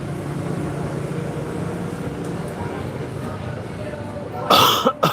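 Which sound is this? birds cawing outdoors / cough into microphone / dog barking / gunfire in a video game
cough into microphone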